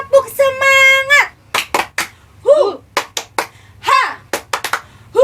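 Children's rhythmic clapping chant, tepuk semangat, in an online Sunday school: bursts of sung voices alternate with sharp groups of hand claps in a steady pattern, close and fairly loud.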